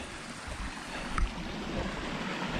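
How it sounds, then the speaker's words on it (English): Steady broadband wash of rushing stream water in the Virginia highlands, continuous and fairly close, with no voices. "Rushing water."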